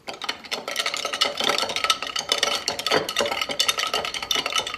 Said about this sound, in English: So then I just take a straw and I mix it.